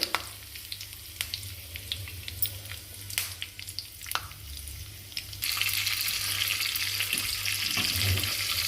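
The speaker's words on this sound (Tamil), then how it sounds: "இதுலேயும் கொஞ்சம் கருவேப்பிலை போட்டுக்கோங்க அதே மாதிரி கொஞ்சம் முந்திரி பருப்பு போட்டுக்கோங்க" Curry leaves and cashews sizzle and crackle in hot oil for Tamil pongal seasoning, a steady close frying hiss that grows louder and denser in the second half, with a few sharp pops and stirring clinks.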